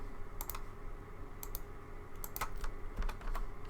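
Fingers type on a computer keyboard at close range, with quick bursts of key clicks separated by short pauses over a quiet room hum.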